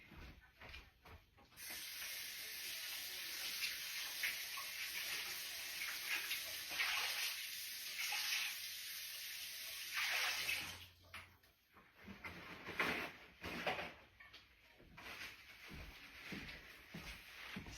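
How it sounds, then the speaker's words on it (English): Running tap water rinsing a container lid in a kitchen, a steady hissing stream for about ten seconds that then breaks into shorter splashing bursts, moderately close and alone. "let me rinse my lid off"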